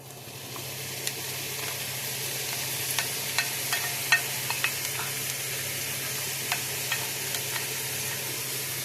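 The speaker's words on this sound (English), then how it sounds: "let's cook our hamburger" Hamburger meat fries in a pan with a steady, even sizzle throughout, while a utensil stirs it, producing scattered light scrapes and taps against the pan.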